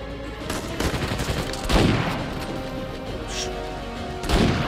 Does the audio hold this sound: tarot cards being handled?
no